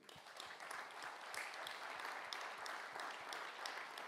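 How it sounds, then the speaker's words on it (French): Audience applauding the panelists of a round-table discussion at a science expo, a steady, dense wash of many hands clapping with no voices, holding even throughout. "On peut déjà les applaudir"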